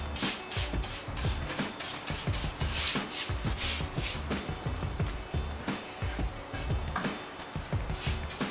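Hand sanding of wooden window trim for a tiny house exterior, a steady scratchy rubbing in quick repeated strokes, close and fairly loud, with no talking.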